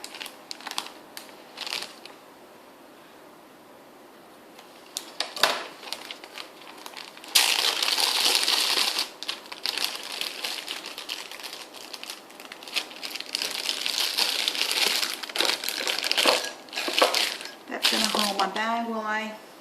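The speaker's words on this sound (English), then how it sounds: "and I'm using a Ziploc bag." Plastic Ziploc bag handled while being filled with buttercream for piping a cake border, giving irregular crinkling and rustling bursts, close and moderately loud, alongside some speech.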